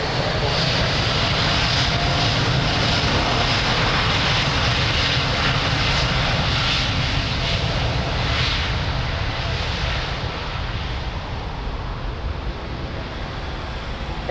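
Jet airliner taking off at Lisbon Airport, a loud sustained roar of engines that slowly fades toward the end, with faint radio speech in the background.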